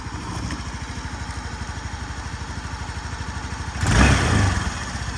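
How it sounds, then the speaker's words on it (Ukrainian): A 2017 Suzuki Address V125 scooter engine idles steadily with a fast, even putter, then briefly swells louder near the end before settling back. "Чистенько, чудово працює двигунчик"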